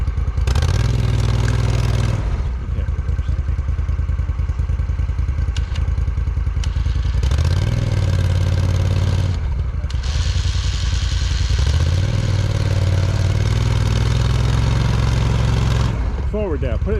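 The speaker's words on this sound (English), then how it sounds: "I'm gonna try and reverse and then use the winch to get me over" An off-road vehicle reversing while winching itself over an obstacle, loud close engine revving in repeated surges with clattering and thumps from the drivetrain, while people talk over the noise.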